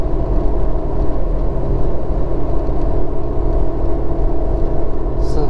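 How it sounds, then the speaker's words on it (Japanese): Steady, loud broadband road and tyre roar from inside a Nissan Skyline R33 GT-R (BCNR33) cruising at highway speed around 100 km/h with low, quiet engine revs, a continuous dense drone with no talking. "ノイズ、ロードノイズが盛大に入ってきますね。"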